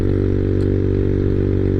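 A Honda Navi small motorbike engine running steadily while riding, a loud, even drone with a constant low hum and no change in pitch over a couple of seconds.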